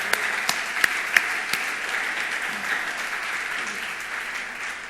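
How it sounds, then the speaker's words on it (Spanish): A church congregation applauds, a broad steady roar of clapping with a few sharp, close individual claps standing out early, sustained evenly to the end. "Un aplauso para toda esa gente que nos ve."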